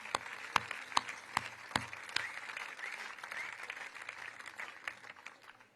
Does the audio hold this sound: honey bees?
no